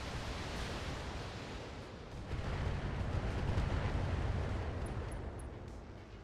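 Weapons fire and explosions in the mech combat game BattleTech merge into a dense, continuous rumbling roar that swells slightly midway and holds steady, loud and without distinct separate blasts, with no voices.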